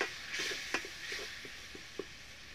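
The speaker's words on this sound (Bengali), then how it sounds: "মশলাটাকে ভালোভাবে ভাজা নেব।" Spice masala of turmeric, cumin and coriander powder with a little water frying in a pan for a Bengali bata fish dish: a soft, steady sizzle with small scattered pops and light taps of stirring.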